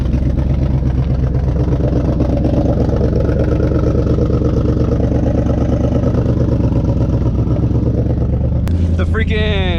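A car's engine runs steadily at idle, a low droning hum with clattering texture over almost ten seconds, then shifts pitch sharply near the end as it revs or moves off; a voice talks over it.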